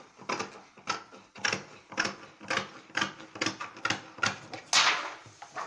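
Acetate sheet is cut along a line in a steady series of about a dozen crisp, rhythmic snips. Each cut is close and fairly quiet, with short pauses between strokes.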